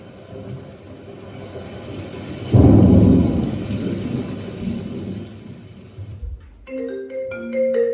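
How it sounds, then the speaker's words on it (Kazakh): Heavy rain pours steadily, and a loud, close thunderclap bursts in partway through and rumbles away under the downpour before music takes over near the end. "Жауын да үдеп кетті."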